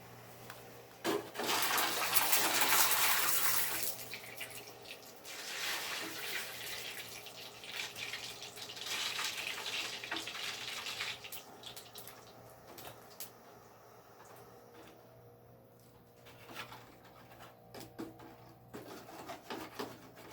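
A hot steel knife blade made from an old file is plunged into liquid to harden it, giving a loud burst of hissing and bubbling for a few seconds that tapers into quieter gurgling and settling sounds.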